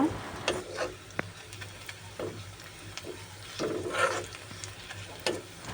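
Soft, steady sizzling of onions frying in a pan, fairly quiet, with scattered small pops and ticks throughout and no talking.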